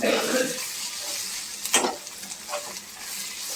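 Masala with turmeric, garam masala and chilli powder sautéing in a little oil in a pan, a continuous hissing sizzle with brief clinks and scrapes of stirring.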